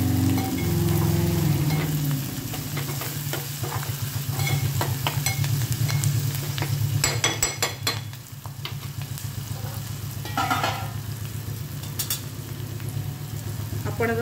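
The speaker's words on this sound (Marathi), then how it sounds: "तसेच फोडणीत कांद्यावर आपण थोडा कढीपत्ता टाकूया।" Curry leaves and onions sizzling in hot tempering oil, a loud steady crackling fry with bursts of spattering and some stirring clatter, close up and without talk.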